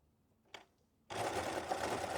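Sewing machine stitching the dart of a kebaya, starting after a short click and running as a steady, close whirring hum through the rest of the clip.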